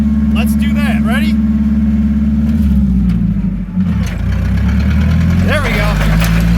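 Propane-fuelled Komatsu FG25 forklift with a Nissan engine runs steadily in second gear, a loud low drone that dips briefly midway and rises again, with someone talking over it throughout.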